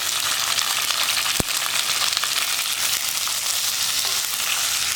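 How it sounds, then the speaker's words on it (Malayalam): Tomato, green chilli and curry leaves fry on a high flame over popped mustard seeds for a mango curry, giving a steady, loud broadband sizzle with a brief sharp knock of a spoon partway through. "ഇത്രയും ചേർത്തിട്ട് ഹൈ ഫ്ലെയിമിൽ ഇളക്കി കൊടുക്കുക"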